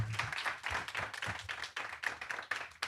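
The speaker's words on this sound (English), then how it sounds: "Can we give a round of applause to the Professor Barbara Ransby?" Audience clapping at a book talk, a brief, fairly faint burst of many hands with an uneven patter of claps.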